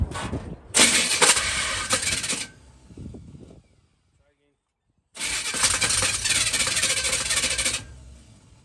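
A 1965 Chevrolet Nova engine cranks in two long, loud bursts separated by a short silence, grinding over without catching or starting.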